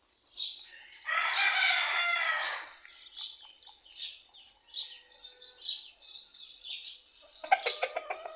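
A rooster crows once loudly nearby in the morning, followed by scattered clucks and chirps from chickens, with a brief rattling flutter near the end.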